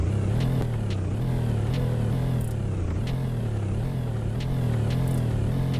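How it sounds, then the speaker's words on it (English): The engine of a Mercedes-AMG SL63 Night Pack revs repeatedly at close range, a loud rising and falling growl with sharp pops and crackles between the revs. "There were some nice pops and crackles there"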